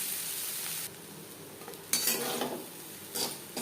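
Pointed gourd being stirred with coconut in a pan over a medium flame, giving soft scraping and a gentle sizzle with a few louder stirring strokes, close and without speech.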